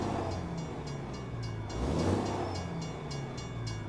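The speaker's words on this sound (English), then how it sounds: "Oh, this darn train." A train rumbles past nearby, low steady roar with faint rhythmic clacking of wheels, swelling slightly in the middle.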